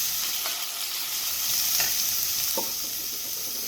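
Onions frying in oil in a pan for Italian-style zucchini, giving a steady, loud hiss and sizzle with a few soft stirring scrapes and no voices.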